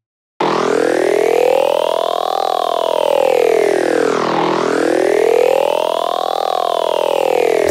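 Serum synthesizer texture with a sci-fi character: a continuous sustained tone whose bright harmonics sweep up and down in slow arcs, loud and alone with no talking.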